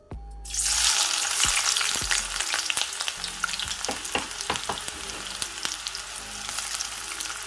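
Onion and seasonings hit hot oil for smoked herring and burst into a loud, bright sizzle that settles into a steady frying crackle, dotted with small pops and the clack of stirring.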